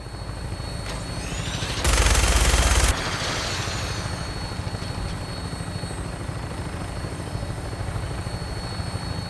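Aircraft flying in Fallout 4, a steady rotor-like drone throughout with a louder, sharp burst of gunfire-like noise lasting about a second near the start, no talking.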